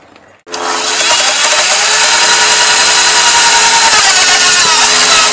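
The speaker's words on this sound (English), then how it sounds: "I'm going to drill the holes now, and then we'll put the sheet metal screws in." After a brief quiet moment, a power drill whirs up loudly and runs at a steady, high-pitched drone up close, drilling holes in sheet metal on a 1958-66 VW.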